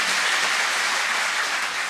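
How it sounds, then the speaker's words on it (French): Deputies applaud in parliament after congratulations on their election in the December 2025 legislative elections, a dense, even wash of clapping throughout. "Félicitations, oui, on peut applaudir"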